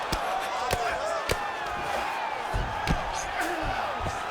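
A crowd at a live fight event roars steadily during a grappling exchange, a dense wash of cheering broken by several sharp thuds and claps.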